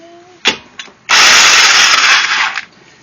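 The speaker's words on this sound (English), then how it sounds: "we're going to zing those nuts off right now" An electric impact wrench zips 21mm wheel nuts off a 2009 Hyundai Accent. A couple of quick clicks come first, then one loud, close, rattling burst lasts about a second and a half before it dies away.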